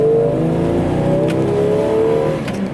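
A Jeep Cherokee XJ with the 4.0L engine accelerates, its engine note rising steadily from inside the cabin, loud and continuous with a droning whir.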